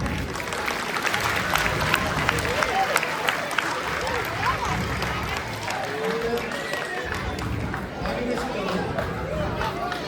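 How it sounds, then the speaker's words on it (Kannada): A crowd applauds in a dense, continuous patter of clapping that holds steady throughout, mixed with murmuring chatter and voices. "ಎಲ್ಲರೂ ಮತ್ತೊಮ್ಮೆ ಜೋರಾಗಿ ಚಪ್ಪಾಳೆ ತಟ್ಟಿ"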